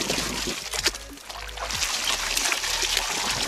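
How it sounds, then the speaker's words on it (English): Water swirls and sloshes around a gold pan full of broken-down gravel and rocks, a close, continuous trickling and splashing with small gritty knocks. "And then we can start swirling."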